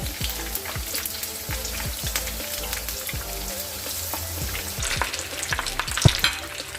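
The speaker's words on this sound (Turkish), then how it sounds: "bol yağın içinde Arka önünü kızartıyorum" Steady loud sizzling and crackling of oyster mushrooms frying in plenty of hot oil, with occasional pops and stirring clinks.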